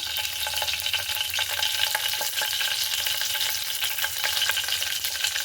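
Curry leaves drop into hot oil for tomato rasam and sizzle steadily: a dense, even frying hiss with faint crackles, heard up close and alone.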